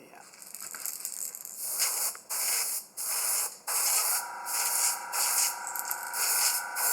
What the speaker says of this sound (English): Now we're going to spray it